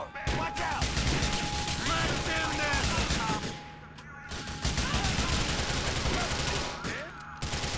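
Sustained automatic gunfire fills a prison shootout in GTA 4, with dense rapid bursts close and loud and only brief lulls, as a voice talks underneath.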